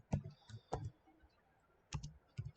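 Typing on a computer keyboard, heard as a few soft, close clicks in small bunches with short pauses between them, quiet and without talk.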